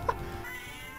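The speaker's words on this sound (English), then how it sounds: "that's like a real cat meow too" A Pokémon's cat-like meow from the video game Pokémon Clover sounds as one short, clear cry at the start, then fades out into quiet game background.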